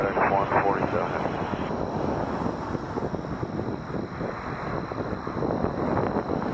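A FedEx heavy jet takes off from runway 23 at Toronto Pearson, its engines a broad distant roar with wind buffeting the microphone, while tower radio talk runs over it throughout.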